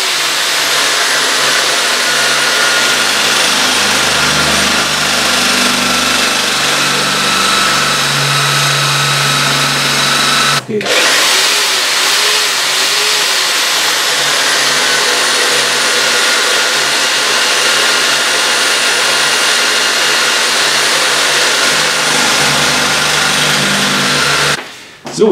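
A steady motor drone runs almost nonstop, with a brief break midway, as a drill press spins and bores holes for an RC scale model kit close by.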